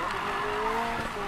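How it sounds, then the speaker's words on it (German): A car in Need for Speed Payback drifts through a corner, its tires squealing in a sustained, wavering screech over engine drone for a brief moment. "Schöner Drift."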